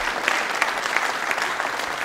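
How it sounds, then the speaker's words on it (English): Studio audience applause on a talk show, a steady wash of many hands clapping at moderate level, continuous for about two seconds with no one speaking over it. "So how about some applause for Reese?"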